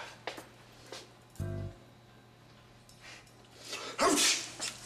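A single sharp human sneeze with a quick breathy intake, in an indoor scene, surrounded by quiet room tone and a few soft clicks and rustles.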